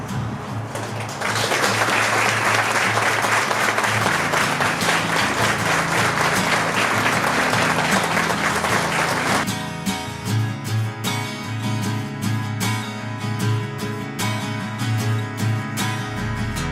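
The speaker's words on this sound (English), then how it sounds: "how she deserved that big round of applause for everything that she did for all of us" Sustained applause from a crowd at a memorial for Mia Molina, dense steady clapping running throughout and continuing strongly to the end, with no talking over it.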